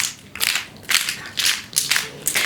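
A roomful of people clap in loose unison, soft bursts of bright claps in a slightly ragged rhythm, with no voices heard.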